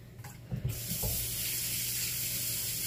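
Water gushes steadily from a tap into a container being washed out, a close continuous hiss after a few brief clunks of handling at the start.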